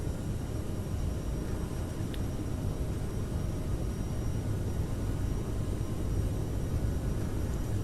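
Aerosoft CRJ 550/700 jet engines at takeoff thrust in Microsoft Flight Simulator 2020, a steady low rumbling roar held evenly throughout with no voices.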